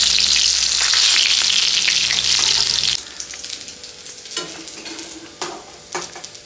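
Bok flowers (Sesbania) fry in hot oil with a loud, dense sizzle for about three seconds, then the hiss drops to a quieter crackle broken by a few sharp clinks and scrapes of a utensil against the pan.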